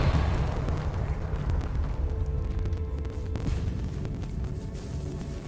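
A Confringo blasting spell in Hogwarts Legacy detonates with a heavy, rumbling explosion that fills the opening and slowly decays into low crackling debris.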